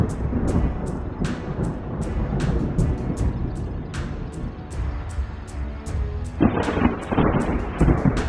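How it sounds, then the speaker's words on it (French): Thunder rumbles from a storm inside a cloud, deep rolling booms repeating over steady rain, loud and continuous with a heavier burst toward the end. "Un orage à l'intérieur d'un nuage."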